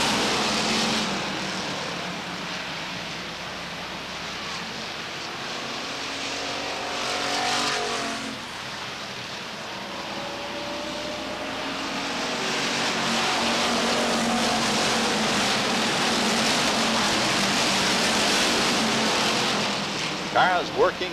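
Race cars lap during a 30-lap weekly event at Beech Ridge Motor Speedway in 1992, their engines in a continuous loud drone that rises and falls as the pack passes, swelling louder toward the end.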